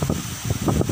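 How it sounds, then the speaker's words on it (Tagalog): Heavy rain and strong wind roar together as a steady, dense wash of noise, with gusts swelling and easing in uneven pulses over one loud second. "Yan talagang lakas ng ulan tapos ang lakas ng hangin."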